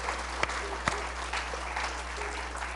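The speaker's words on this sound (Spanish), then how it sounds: "Denle un aplauso al Señor." A church congregation claps together in sustained applause, a dense close patter of many hands with a few sharper claps standing out.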